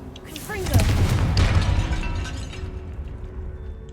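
A single Confringo blasting-spell explosion in the Hogwarts Legacy video game, a sharp burst followed by a decaying rumble, with a voice speaking briefly before it.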